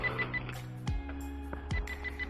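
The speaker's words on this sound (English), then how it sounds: "Shut the controller off because I don't want to hear that beep." The remote controller of a Tianqu Visuo XS812 GPS foldable drone gives short, fairly faint high beeps repeating at a steady rhythm over a low hum and a few clicks.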